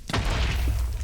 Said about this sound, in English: first explosion of the video.